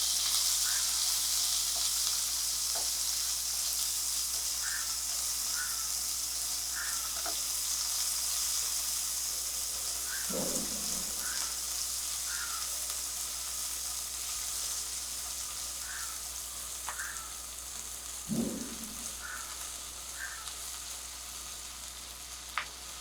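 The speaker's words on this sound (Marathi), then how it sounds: "आणि हा कांदा थोडासा परतून घ्यायचा आपल्याला" Sliced onion sautés in hot oil with asafoetida for coriander rice, a steady broadband sizzle holding for the whole stretch, broken by a few soft clicks and two brief scrapes of a spoon against the pan.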